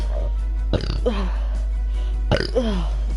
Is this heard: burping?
yes